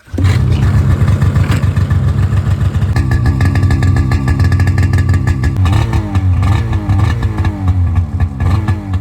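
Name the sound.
snowmobile engine revving, aftermarket exhaust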